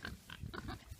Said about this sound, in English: Here, pigs! Here, pigs!